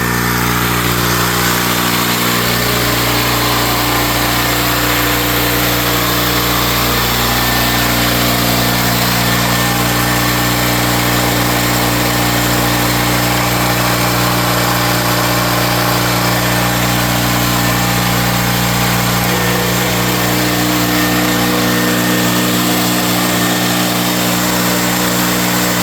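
A twin-cylinder DC generator engine runs continuously at a loud, steady, close drone with strong low-end hum and buzzing harmonics throughout, no voices.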